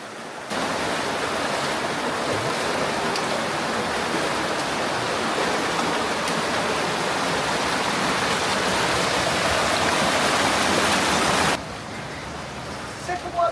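A waterfall roars as a steady broadband wash of falling water, loud and unbroken for most of the stretch before dropping away abruptly near the end.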